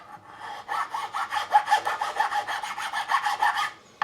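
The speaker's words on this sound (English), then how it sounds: "Now we're going to score it this way with the file." A metal file scrapes across the wooden fretboard of a 1983 Burny Les Paul Custom during a re-fret. Rhythmic, evenly spaced rasping strokes, close and fairly loud, with no talk.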